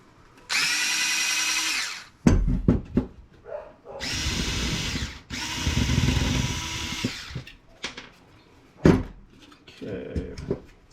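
A power drill spins screws out of a Cisco adaptive security appliance in several whirring bursts of a few seconds each, separated by clunks, rattles and handling of the metal casing, close and clear.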